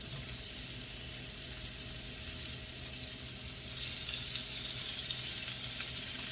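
Seasoned shrimp with cumin, red pepper flakes, garlic powder and onion powder sautéing in a pan, giving a steady close sizzle and crackle that runs throughout without talk.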